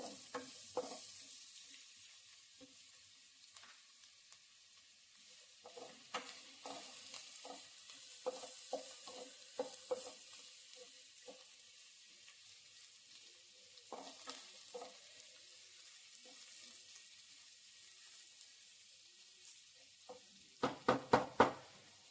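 Momo filling with cabbage is stirred and fried in a pan, a quiet, steady sizzle broken by irregular scrapes and clacks of the spoon against the pan, ending in a short burst of louder rapid scraping.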